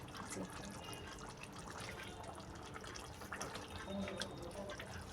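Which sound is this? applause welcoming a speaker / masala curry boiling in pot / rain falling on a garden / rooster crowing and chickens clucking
masala curry boiling in pot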